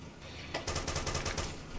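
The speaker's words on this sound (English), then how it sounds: "We had gunfire from multiple directions there, I think." Arma 2 gunfire: a rapid automatic burst of shots in quick succession, loud and close, starting after a brief lull.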